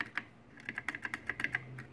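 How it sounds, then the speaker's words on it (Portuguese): Switches on an Atari Polyvox console click repeatedly at close range, a quick irregular series of sharp plastic snaps with no talking. "Funcionamento das chaves ficaram perfeitas."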